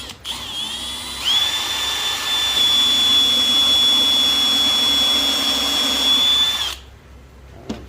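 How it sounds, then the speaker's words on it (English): A power drill whines steadily at high pitch while boring into wood for a bird feeder, running for several seconds before stopping abruptly. "Let's see if we can drill it."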